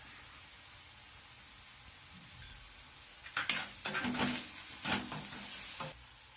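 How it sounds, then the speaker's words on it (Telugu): Onions frying with ginger-garlic paste in a pan, stirred with a spoon: a steady soft sizzle that breaks into several louder scraping, clattering stir strokes in the second half, with no talking. "అడుగు పట్టుకుంటూ అలా కలుపుకుంటూ ఉండాలి"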